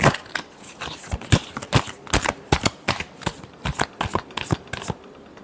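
A tarot deck being shuffled by hand, a rapid series of crisp riffling card slaps in irregular bursts, close and fairly loud with no voices.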